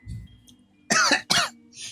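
Two loud, close coughs in quick succession, each a harsh burst with a short gap between, followed by a faint hiss; no talk.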